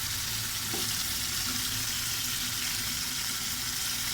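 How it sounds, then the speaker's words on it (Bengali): Chicken and potato curry frying in a pan, a steady close sizzle with faint stirring scrapes throughout, no voices. "আলু দিয়ে মুরগির মাংস রান্না করতেছে,"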